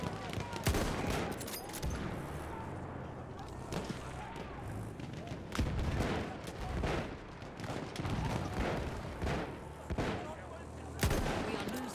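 Martini-Henry rifle fire and other gunfire in Battlefield 1 crack out in loud, irregular booming shots over a constant din of battle, with players talking throughout.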